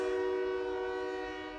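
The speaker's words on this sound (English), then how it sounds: "Sorry about the train." A train horn blares in one long, loud, sustained chord, close by and steady, fading slightly toward the end with a low rumble underneath.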